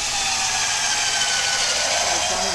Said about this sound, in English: I'm going to pre-drill these holes just to keep the chance of the wood splitting down to a minimum